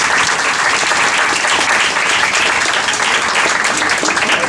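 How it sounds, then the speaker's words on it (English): Dense, loud applause fills a room at a valedictorian ceremony at the Museum of Bronx History as a local historian is honored. The clapping stays even and continuous from start to finish. "Let's give Lloyd a strong round of applause."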